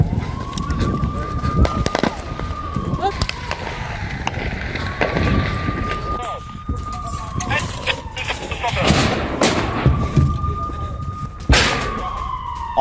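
Air raid sirens wail across a city in Israel, rising and falling in long repeated cycles over a noisy street background with bursts of rumble.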